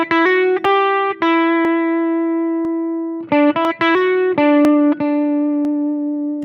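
A short melodic phrase is played on an instrument with a bright, buzzy tone. Clear separate notes come in two groups with a pause between them, each note sustaining loud and close.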